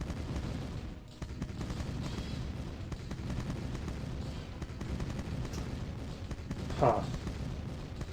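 Explosions in the Command & Conquer strategy game go off against an enemy attack on a base and weapon factory, a dense rumbling barrage throughout with one sharper blast near the end and a brief spoken interjection.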